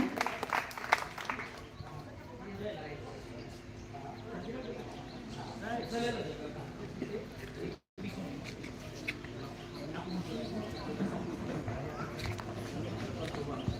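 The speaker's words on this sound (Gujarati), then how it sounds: "જોરદાર તાળીઓથી આપણે રવાઈ લઈશું" A crowd applauds at a school Independence Day event with steady, dense clapping that continues for several seconds, breaks off briefly, then resumes, with voices mixed in.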